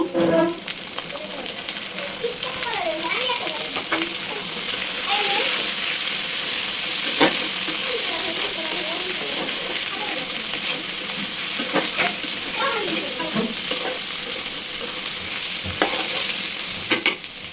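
Washed dried fish (shutki) frying in a pan with vegetables, a steady close sizzle with stirring scrapes and occasional sharp clinks, and a voice briefly talking over it.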